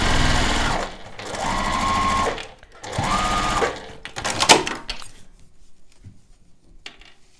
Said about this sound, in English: Now I can stitch this here.